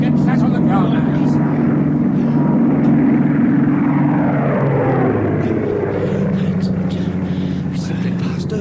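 A low-flying American aircraft passes overhead in a wartime radio drama, a loud, steady engine drone holding for several seconds and then sliding down in pitch as it goes by, with voices talking over it.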